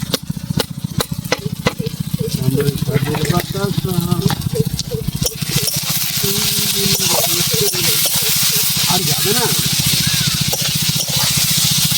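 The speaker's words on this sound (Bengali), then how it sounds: "বেশি লাল করে ভাজবো না, আবার একদম কাঁচা রাখবো না।" Onions frying in oil with salt and turmeric give a steady, close sizzle, with sharp stirring clicks early on and a quiet voice underneath.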